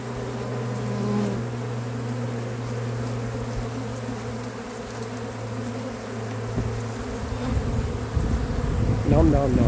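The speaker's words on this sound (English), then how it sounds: "These are bees from anywhere coming to clean the remains." Honey bees swarm over emptied honey boxes after a Texas raw honey harvest, producing a loud, dense, continuous buzzing hum close by, with the swarm's drone thickening toward the end.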